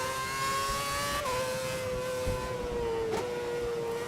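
A Formula 1 race car engine in the racing game F1 2011, a steady high whine under gentle throttle that dips in pitch twice as gears shift, continuous and fairly loud with no talking.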